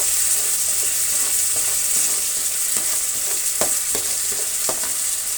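Tamarind paste frying in a pan for a puliyogare gojju, a steady, loud sizzle throughout with a few soft scrapes of a spoon stirring, and no voices.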